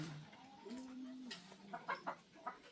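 Chickens clucking in a farm pen converted for goats, a drawn-out hen call followed by several short clucks, close but soft.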